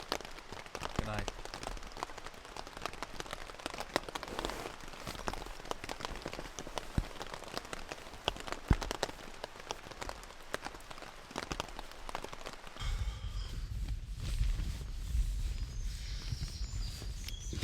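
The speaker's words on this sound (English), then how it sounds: "I'm gonna listen to the sound of the rain hitting the tent" Rain patters steadily on a tent in the woods at night, dense scattered drops tapping the fabric, with a soft low rumble toward the end.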